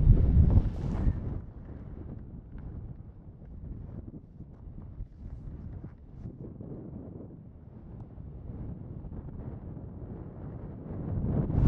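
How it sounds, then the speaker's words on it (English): Strong wind buffeting the microphone on a mountain summit beside Mt Baden Powell's trail from Vincent Gap, a continuous rough low roar with gusts that rise at the start and end. "the wind is a bit wild up here"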